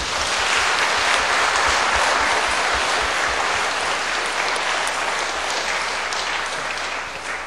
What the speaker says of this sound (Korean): 다시 박수로 영광.